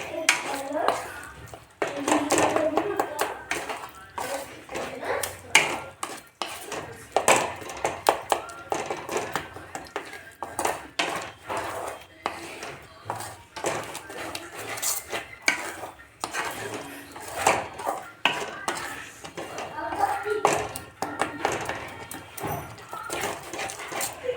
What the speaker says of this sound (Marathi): आता याच्यासोबत आपण असं प्रेस करत याला मिक्स करून घेऊ